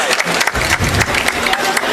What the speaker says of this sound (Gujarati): જોરદાર તાળીઓથી પ્રવીણભાઈને ફરી વખત વધાવીએ.